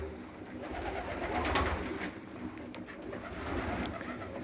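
Pigeons of several kinds cooing in a loft, soft low coos under steady background hiss, faint and continuous without any talk.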